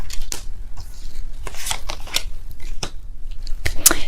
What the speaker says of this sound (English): I will be pulling all the cards.